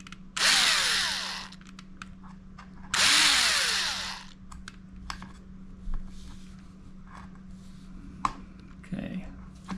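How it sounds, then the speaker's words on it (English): Two loud bursts of a power drill cutting an angle on a Toyota Supra, each running about a second, followed by quieter handling clatter and faint background hum. "No pressure on the drill at all."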